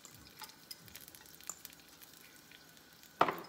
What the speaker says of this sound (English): I'm just gonna saute these.